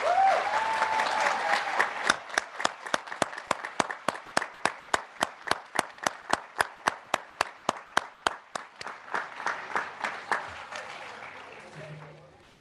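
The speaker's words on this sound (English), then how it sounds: "Please join me in a round of applause." Applause from a commencement ceremony audience after a trust award is presented, a broad wash of many hands with a steady clapping rhythm through the middle, then thinning out and fading near the end.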